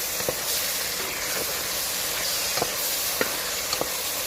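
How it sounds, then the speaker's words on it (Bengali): Spices and bay leaves fry in oil for a goat meat curry, making a constant sizzle broken by soft, intermittent scrapes and taps of stirring. "মশলা আমি আবারও ভালো করে নেড়ে দিচ্ছি।"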